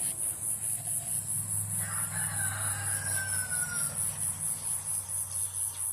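A rooster crows once in the middle distance over steady outdoor background hum and faint insect chirping.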